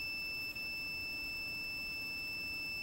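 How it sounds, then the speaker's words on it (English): A multimeter gives a steady, shrill electronic continuity beep, sounding continuously with a tiny dropout near the start, signalling a closed circuit. "when I do this, it makes that beep, lights up"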